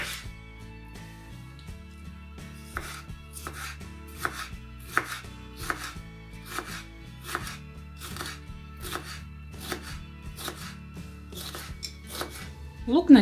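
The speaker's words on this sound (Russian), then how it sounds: "Болгарский перец я очистила, вымыла. Нарезаю соломкой." Close, steady rhythmic knife chops as peeled, washed bell pepper is cut into strips on a board, over soft background music, ending with a brief louder clatter.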